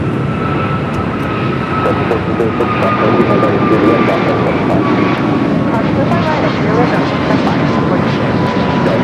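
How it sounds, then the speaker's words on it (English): A Frontier Airlines Airbus A320neo jet arriving from Denver at LAX, its engines a steady, fairly loud roar with a rising whine that persists throughout while someone talks over it. "Frontier flight coming in from Denver. Ruby, the Reindeer livery. It's an A320neo."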